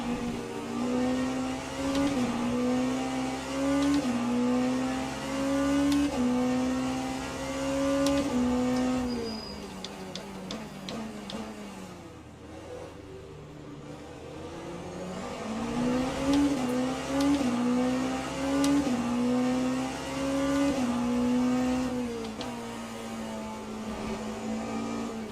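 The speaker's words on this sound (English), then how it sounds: "Here's the main pack of GT3s." A pack of GT3 race cars in the racing sim Le Mans Ultimate at Portimao, engines droning and rising in pitch as the cars accelerate through gears, with a brief lull before more cars roar past.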